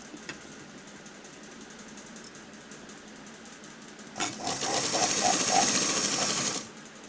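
A sewing machine stitches a fold at the sleeve of a ready-made dress in black thread over gold fabric, a fast, steady whirring run of about two seconds after quiet handling, close and fairly loud.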